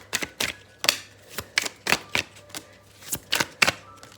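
Tarot cards being shuffled in a series of crisp, separate riffling snaps and flicks, about a dozen quick bursts spread unevenly across a few seconds, close and fairly clear with no talking.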